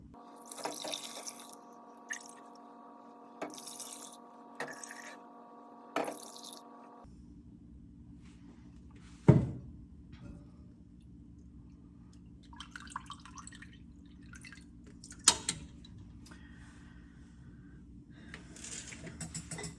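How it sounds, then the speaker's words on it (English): Chicken bone broth is ladled from a pot through a strainer. Liquid drips and trickles close by, with a sharp clink of the ladle partway through, after a low humming stretch with scattered taps, and no talk. "I'm just gonna ladle straight from the pot into the strainer."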